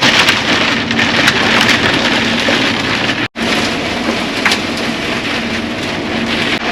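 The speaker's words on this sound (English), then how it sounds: "I'm going to throw in a few videos that I took on the GoPro of when it was hailing." Heavy hail pours down during a storm on farm fields, captured on a GoPro: a dense, loud, steady hiss of pelting stones with a deep thunder rumble underneath and a brief dropout midway.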